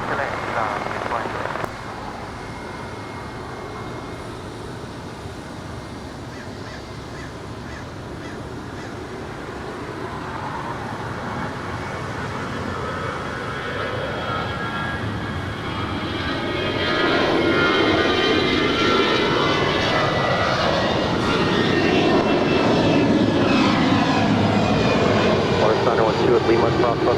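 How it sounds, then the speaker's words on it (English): An Airbus A320 comes in to land at Los Angeles International Airport, a long jet engine roar that builds steadily louder as it approaches, with a voice speaking over it. "It's an A320 named Samuel. Samuel, welcome to Los Angeles."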